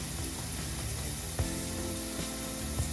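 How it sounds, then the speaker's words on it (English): Steady crackling sizzle of steak cooking on a grill, a constant hiss with a few faint clicks and pops. "Can you hear that meat sizzling?"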